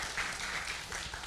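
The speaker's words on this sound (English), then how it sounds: "Round of applause for Patrick." An audience at a Battersea Arts Centre leadership event gives a round of applause, a dense, steady wash of clapping heard at a distance for about a second.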